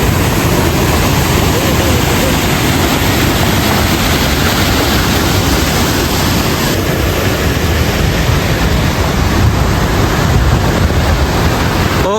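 Sun Waterfall in Lerik, swollen after three days of rain, roars as a dense, constant wash of falling water, loud and unbroken throughout with no clear voices on top.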